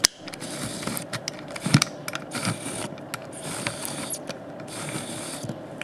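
A Leningrad film camera's winding mechanism ratchets continuously, a dense run of close, fine mechanical clicks and gear whirring with small irregular knocks, no talking.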